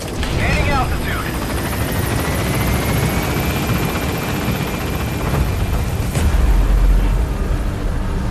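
Helicopter in Metal Gear Solid V: The Phantom Pain lifts off from a landing zone with a loud, constant rotor thrum and low engine rumble, a faint whine rising over it and a heavier low swell near the end.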